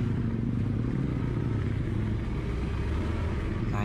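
A 2017 Honda Beat scooter with a freshly rebuilt engine climbs a steep, narrow road, its motor droning with a constant low rumble close by, steady throughout.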